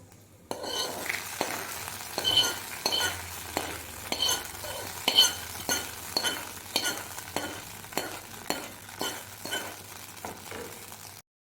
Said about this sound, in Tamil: ரெண்டு சின்ன வெங்காயத்தை பொடியாக கட் பண்ணி அதை சேர்த்துக்கோங்க வெங்காயம் பொரியட்டும்